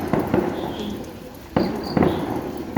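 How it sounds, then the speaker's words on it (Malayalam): Firecrackers bursting far off in an evening neighbourhood during election celebrations, a few dull thuds and pops scattered at irregular intervals over quiet background. "അവിടെ കുറേ നേരമായി പടക്കം പൊട്ടിക്കുന്നു കേട്ടോ"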